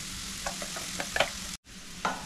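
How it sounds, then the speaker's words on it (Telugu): A spoon scrapes and taps as coconut green chili paste is stirred and fried in a pan, over a soft, steady sizzle. "ఇప్పుడు దాన్ని మంచిగా మిక్స్ చేసుకొని ఒక్క 2-3 నిమిషాలు ఫ్రై చేసుకోవాలి"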